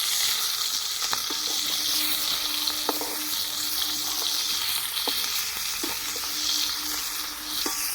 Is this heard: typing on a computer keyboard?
no